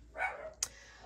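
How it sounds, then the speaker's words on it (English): A small dog barks from somewhere below the room, giving a couple of short yips at moderate distance with a brief click between them. "Excuse Miss Coco barking down there"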